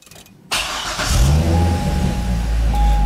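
A Chevrolet Corvette with ABS and traction control warning lights on cranks and fires up after a quiet moment, settling into a loud, deep, steady idle nearby.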